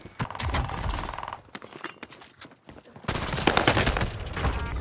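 A PPSh submachine gun fires in dense rapid bursts inside a video game, loud and close, with a brief lull in the middle before a heavier stretch of automatic fire resumes, and faint voices talking underneath.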